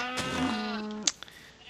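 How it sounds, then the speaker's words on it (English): A single sheep bleat in the video game Minecraft, a clear, close wavering call lasting about a second, followed by a couple of small clicks, with no talking. "Okay, so white sheep, red sheep, yellow sheep, blue sheep."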